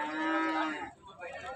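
A cow lets out a single loud, drawn-out moo at a busy cattle market on a rainy day, trailing off into a softer low call.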